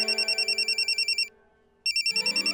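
A telephone rings in a rapid warbling electronic pattern: steady repeated bursts, then a brief pause, then the ringing starts again. Nobody talks over it.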